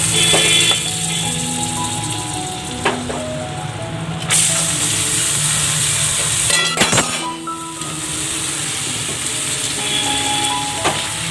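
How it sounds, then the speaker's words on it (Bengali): Onion and chopped garlic sizzle and hiss loudly in hot oil with fried whole spices for a chicken stew, a steady close crackle with brief clinks of a utensil. "এইবার এর মধ্যে আমি দিয়ে দেব পেঁয়াজ আর যে রসুনটা কুচি করা আছে"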